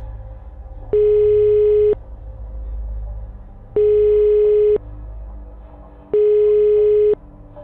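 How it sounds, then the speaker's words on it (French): Three evenly spaced tone bursts of about a second each sound on a phone line mid-call, each a steady electronic beep with a soft background murmur between them, a loud ringback-style signal rather than a bell. "Dans la panique, j'ai quand même pu retrouver mon téléphone pour appeler Gabin."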